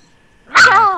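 A dog in the Minecraft video game gives a short bark-like yelp with harmonic whine, starting abruptly midway after near silence and sounding fairly close.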